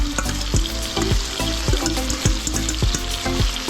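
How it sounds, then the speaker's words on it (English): Marinated onions fry in a pan alongside steak. A loud, close, steady sizzle is punctuated by regular stirring knocks and scrapes, with no voices. "I'm gonna add the onions that I marinated the steak in."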